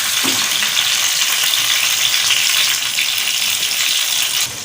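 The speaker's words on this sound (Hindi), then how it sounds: "अभी प्याज और टमाटर दोनों चीज़ों को अच्छी तरह भून लेते हैं।" Steady, loud sizzling of onions and tomatoes frying in a hot pan, a continuous crackling hiss with faint stirring throughout.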